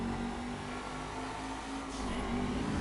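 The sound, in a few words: car engine revving in GTA V video game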